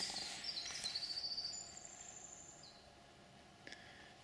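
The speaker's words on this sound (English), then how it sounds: "I don't know what kind of bird is that" An unidentified bird calls outdoors, a high thin chirping trill repeated through the first couple of seconds, then a drawn-out whistle and a brief faint chirp near the end, fairly distant against quiet ambient background.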